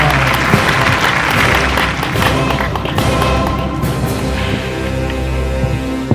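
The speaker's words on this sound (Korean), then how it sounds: "빨리주세요 박수!" Outdoor crowd applause at a building dedication ceremony on a cold day: sustained, fairly loud clapping over steady low tones, with a few sharp taps and thuds scattered through.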